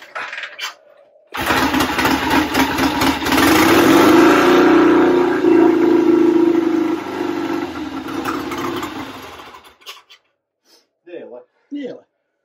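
A Marcos Mantula car engine starts on choke and runs loud and close for several seconds, rising and wavering before it cuts out, followed by brief voices.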